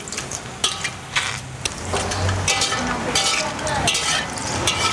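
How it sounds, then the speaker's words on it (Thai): Shiitake mushrooms dry-roast in a pan with a soft continuous sizzle, broken by intermittent scraping strokes of a spatula as they are stirred, close and moderately loud. "คั่วจนเห็ดได้กลิ่นหอมๆแล้วก็ใส่ เห็ดหอม"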